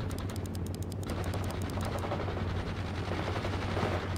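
Gunfire in the World in Conflict video game: rapid machine-gun bursts rattle continuously over a low rumbling battlefield, steady and moderately loud with no pause.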